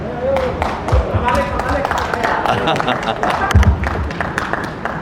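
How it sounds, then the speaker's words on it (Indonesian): A seminar audience at a youth-organisation discussion on COVID claps in a dense, steady patter that fills the whole stretch, with background voices and music-like tones mixed underneath. "Ya, tepuk tangan."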